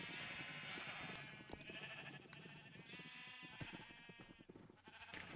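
Sheep in a hardcore Minecraft game bleat in repeated wavering calls that overlap across the whole stretch, fairly faint, with small clicks and game sounds between them and no talk.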